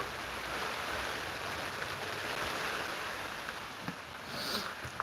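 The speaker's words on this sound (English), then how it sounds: "I'm gonna jump in and out of this rain for a moment." Steady rain falling in a garden, a dense continuous wash of close patter that stays even throughout, with a couple of faint knocks near the end and no talking.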